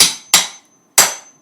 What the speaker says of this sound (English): with each piece, I have to grab a hammer